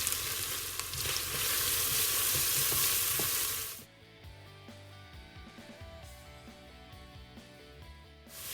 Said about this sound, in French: je les fais revenir comme ça pendant à peu près 5 minutes